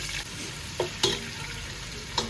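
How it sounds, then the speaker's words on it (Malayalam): Sliced onions frying in hot oil for biryani, a continuous close sizzle with a few soft stirring knocks, no talk. "എന്നിട്ട് ബാക്കിയുള്ള സവാള കൂടി ഫ്രൈ ചെയ്തെടുക്കുന്നുണ്ട്"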